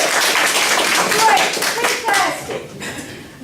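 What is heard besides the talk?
audience applause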